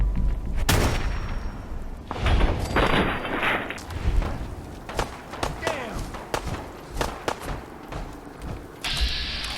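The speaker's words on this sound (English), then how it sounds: "Shoot the guy in the head." Gunfire in Fallout 4, with shots aimed at an enemy's head through VATS, cracking as a run of sharp, loud blasts spread irregularly across the stretch, mixed with thuds and game effects while a voice talks over them.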